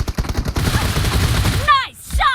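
Rapid bursts of Groza assault rifle fire ring out in the PUBG Mobile shooter game, dense repeated shots at first, then a rolling fusillade, with a voice speaking over the gunfire.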